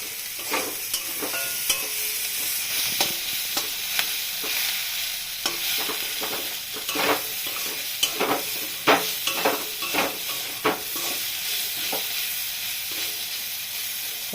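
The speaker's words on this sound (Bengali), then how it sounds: "একটু নাড়াচাড়া করবো এখন" Drumstick flowers, potato and eggplant stirred in a pan, repeated scraping strokes of a spoon over a steady sizzling hiss, fairly close and without any voices.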